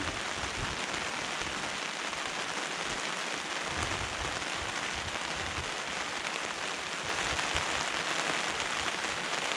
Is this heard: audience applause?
no